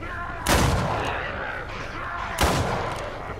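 Gunfire in the multiplayer zombie video game Contagion, two loud, heavy booming shots about two seconds apart, each ringing out over a constant background rumble.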